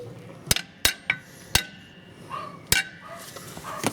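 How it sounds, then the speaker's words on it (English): A hammer taps a brake drum onto the rear hub of a VW T25 transporter during a brake overhaul, with several sharp metallic knocks at uneven intervals, close by, amid faint workshop clinks. "A couple of taps with a hammer."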